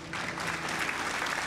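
Applause during an Elden Ring play session, a short burst of dense, even clapping that holds at a steady level from start to finish, with no voices over it.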